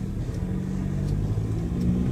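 A 2021 Ford Ranger Thunder ute's engine pulls under acceleration, a low, steady rumble that climbs slightly over a couple of seconds, heard fairly quietly from inside.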